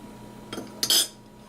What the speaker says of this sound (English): So right now I'm mixing my dry ingredients together